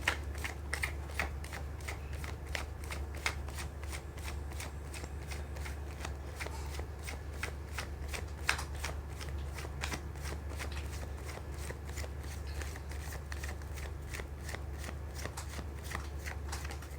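Tarot cards being shuffled by hand, a long run of quick, crisp riffling flutters and snaps repeating close up and at a fairly even pace, with no speech over them.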